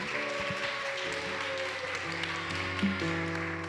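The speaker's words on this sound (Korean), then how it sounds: "우리 수고한 온익에 박수 부탁드리겠습니다." Church congregation applauding during a worship service, a steady wash of clapping running beneath sustained held musical tones.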